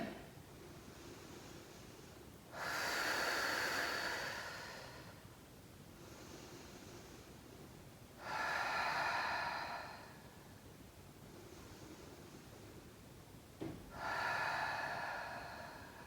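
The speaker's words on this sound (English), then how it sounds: "Take some deep breaths, relax into it." Slow, deep breaths during a foam roller stretch: three long, loud exhalations spaced several seconds apart, close to the microphone, with quiet inhales between.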